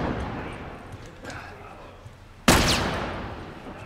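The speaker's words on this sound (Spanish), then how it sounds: "Eso es, escopeta de mano." A hand shotgun in The Last of Us goes off once in a sharp, loud blast partway through, after quieter ambient game sound and some talking.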